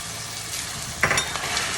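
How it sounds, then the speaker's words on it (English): A ladle of broth goes into a pan of mushroom risotto, giving a soft steady sizzle and stirring with a brief louder splash-like burst midway, close and alone. "So we're going to add a ladle full of broth, about a half cup, 3/4 of a cup."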